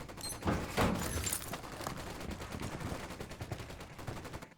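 Bursts of automatic machine gun fire from a Ghost Recon Wildlands firefight, loudest early on, then continuing as a steady crackle of shots and distant gunfire in the background.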